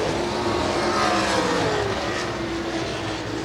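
Sprint cars race around a quarter-mile dirt speedway at Benton County, a continuous loud, droning engine roar with shifting pitch as the pack circles, no talk over it.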